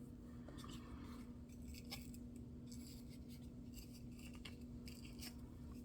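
Scissors snip away excess string from a handmade moon Christmas ornament, a few faint, quick clicks and snips close by against a quiet background hum.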